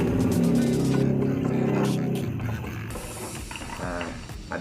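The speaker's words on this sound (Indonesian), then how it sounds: "Nah, ini kacangnya kita giling dulu." Fried peanuts being ground into a spice paste in a grinding machine: a steady mechanical whirring and grinding, loud at first and then gradually lower, running alone without talk.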